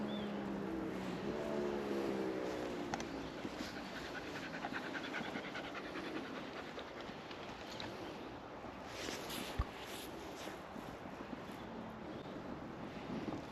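Several dogs pant steadily and close by through a long stretch, breathy rhythmic huffs over a low rumble of wind against the microphone, with no talking.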